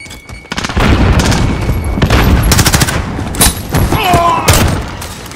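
Call of Duty Modern Warfare combat: a heavy grenade boom amid sustained rapid gunfire, loud and close, the firing rolling on in dense bursts with a brief voice in the mix.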